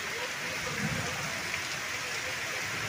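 First heavy rainfall of the season in Mandla during a storm that shakes the trees, heard as a steady, even hiss of rain at moderate loudness that does not let up.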